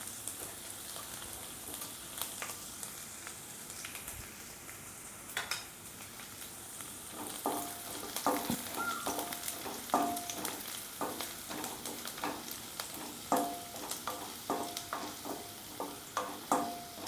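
Chopped garlic, seven or eight cloves, fries in hot oil for prawns chilli, a soft steady sizzle joined by rhythmic scraping and stirring taps of a spoon against the pan, close up and without speech.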